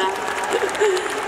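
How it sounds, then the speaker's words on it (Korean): An audience applauds at a Busan International Film Festival open talk for the film Cobweb, steady clapping with voices heard over it. "큰 박수 부탁드립니다"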